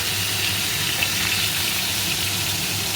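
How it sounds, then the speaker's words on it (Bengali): Pumpkin pieces fry in hot oil for a shrimp and pumpkin curry, giving a steady, dense sizzle that stays close and even throughout. "কুমড়োটা আগে ভেজে তুলে রাখবো।"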